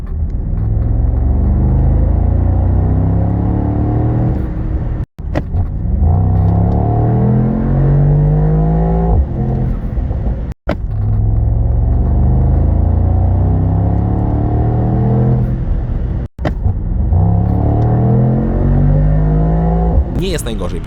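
Mercedes-AMG SL 63 4MATIC+ roadster with a 4.0-litre V8 revving hard, a loud, deep, continuous engine roar with rising and falling pitch sweeps, broken by three brief gear-change cuts.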